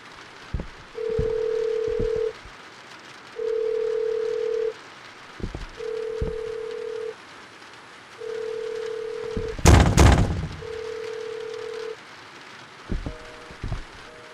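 A telephone rings in the video game In the Facade We Trust, five evenly spaced electronic tones with pauses between them, broken by a sharp burst of noise and a few soft thumps near the end.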